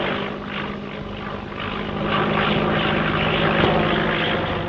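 A propeller airplane drones steadily overhead as it passes over a mountain, in the soundtrack of a 1936 western film. The engine hum is loud and continuous and swells slightly toward the end.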